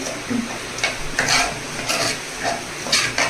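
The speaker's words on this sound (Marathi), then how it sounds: "छानपैकी त्याला मिक्स करून घ्यायचे." Soaked lentils being stirred and mixed in a pan for dal fry, giving intermittent scraping, swishing bursts over a soft frying sizzle, close and moderately loud with no talking.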